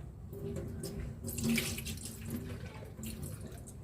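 Tap water runs steadily into a sink to rinse pickled mustard greens, a close, continuous splash and gurgle with a few louder surges and no talking.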